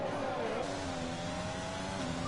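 A race car engine in F1 2020 whines at high revs during an overtake at the Austrian Grand Prix, with layered tonal engine drones that shift pitch and hold steady and loud throughout.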